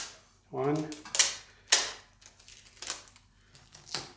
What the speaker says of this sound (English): I'm gonna cut 4 pieces of this tape.